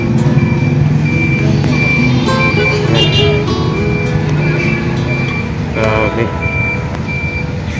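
Reversing beeps from a vehicle backing up in heavy traffic near a railway crossing where a jeep fell, repeated electronic tones sounding over engine noise, traffic din and people talking nearby.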